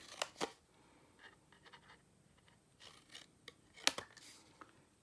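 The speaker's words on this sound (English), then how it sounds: "I'm gonna cut this here." Scissors cutting through Magnolia designer series paper for a mini card album: a few brief, crisp snips and rustles at close range, with quiet handling noises between them and no talk.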